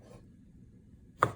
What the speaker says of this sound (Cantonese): 切片咯